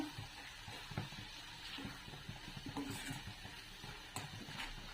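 Masoor usal being stirred together with grated coconut in a pan, with soft scraping and light sizzling at close range, steady and quiet with no talk.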